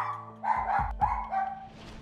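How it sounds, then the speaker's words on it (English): An excited dachshund lets out a few quick, high yappy barks at close range, with a short whine in between and no voices. "the Seinfeld dachshund Jose, it was clear he was an excited dog that needed leadership, especially when the doorbell rings."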